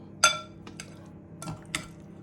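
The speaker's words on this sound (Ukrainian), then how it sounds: "Посипаємо крильця і перемішуємо ретельно" Chicken wings tossed with corn starch in a bowl, heard as a few sharp clinks and scrapes of utensil against dish, separated by short pauses, close and fairly loud with no talking.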